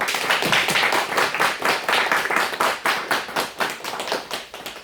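A church congregation at a Sunday service gives a round of thankful applause, with a dense, rapid, rhythmic clapping that swells and pulses steadily, close and loud, with no voices.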